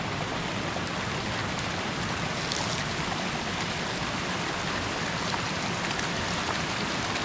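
Hot water rushes and churns at the source of a boiling river in Peru, a dense, constant roar of flowing water heard close up with no voices.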